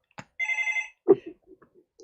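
A telephone rings indoors in a home office, one loud electronic trill burst followed by a few faint clicks and soft bumps as it is picked up.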